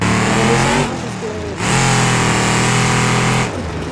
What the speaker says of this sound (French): On est en train de rouler dans la montagne.